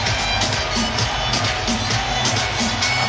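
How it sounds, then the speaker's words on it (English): At a baseball game, a home crowd roars and cheers steadily in a broad, loud wash of noise, with a voice faintly under it. "And now the home crowd starting to get on their feet and start to rock."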